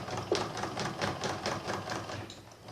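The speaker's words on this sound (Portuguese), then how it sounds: "Você tem que passar bastante costura aqui, que é para prender esse tule, que vai prender todos os tecidos que estão lá." Sewing machine stitching through layered fabric and tulle for a fabric-lasagna cup coaster, a steady, rapid needle rhythm running throughout at moderate loudness with no talking.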